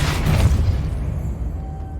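Depulso force spell cast in Hogwarts Legacy, a single deep booming burst that swells at once and then slowly decays into a low rumbling tail, with no voices over it.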